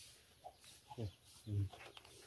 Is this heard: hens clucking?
yes